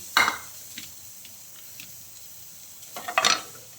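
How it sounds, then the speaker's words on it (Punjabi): Onion and garlic go into a pan for an oil-free vegetable tempering, giving a soft sizzle with two sharp clinks of a utensil against the pan, one at the start and one near the end. "ਇੱਥੇ ਆਪਾਂ ਹੁਣ ਪਾ ਦਾਂਗੇ ਪਿਆਜ਼ ਤੇ ਜਿਹੜੇ ਆਪਾਂ ਨੇ ਇਹ ਲਸਣ ਲਿੱਤੀ ਆ"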